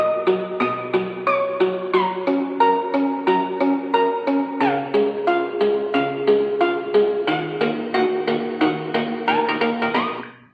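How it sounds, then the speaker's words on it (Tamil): A song plays through a universal wireless speaker: steady, plucked melodic music with a bass line, evenly loud and fairly close. The sound fades out abruptly at the end, with no talking. "இப்போ நான் ஒரு சாங் ப்ளே பண்ண போகிறேன்."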